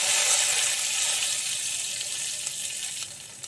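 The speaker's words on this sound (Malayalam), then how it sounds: "കടുക് പൊട്ടി വരുമ്പോഴേക്കും നമുക്ക് വറ്റൽമുളക് ഇട്ട് കൊടുക്കാം." Mustard seeds and dried red chillies fry in hot oil for lemon rice, giving a bright, steady crackling sizzle up close that fades slightly, with a few sharper pops near the end; no talking.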